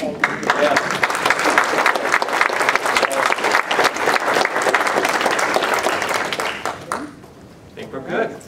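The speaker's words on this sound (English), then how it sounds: "first I'd like to just do one more round of applause." Close, loud applause from an audience at a community healthcare event fills most of the stretch, dense and steady, then stops abruptly as talking resumes.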